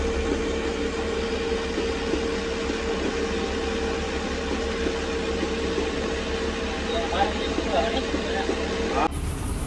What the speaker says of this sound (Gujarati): લે, ટ્રેન આવી ગઈ.